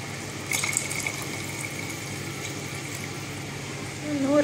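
Water is poured into a pot of Thalapakatti-style chicken biryani, making a faint, steady splashing that runs for a few seconds in a quiet kitchen.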